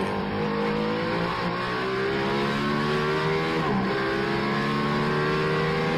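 Heavy race car driving at speed, its engine note rising and falling in steady harmonic tones, loud and close for several seconds with a brief dip in pitch partway through.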